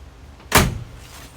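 A single solid thunk as the tailgate of a 2016 Ford Ranger 3.2 TDCi Wildtrak is shut, close and loud, with a short low rattle trailing off after the impact.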